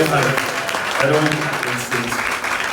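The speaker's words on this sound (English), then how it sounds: "Round of applause for this." Applause breaks out at a political gathering in Ghana for a party flagbearer, dense clapping from a crowd that runs throughout under some voices.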